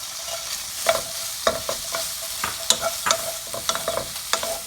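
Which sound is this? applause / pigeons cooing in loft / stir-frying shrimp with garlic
stir-frying shrimp with garlic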